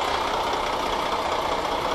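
A 2013 Samco Primas H45b bus in Euro Truck Simulator 2 runs with a steady, dense engine drone that holds even and loud from start to finish, with no talking.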